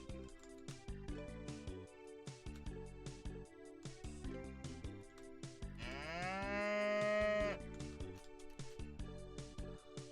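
Cow moo from an RPG Maker video game, a long drawn-out harmonic call rising and sustaining near the middle, heard over continuous game music with no talk.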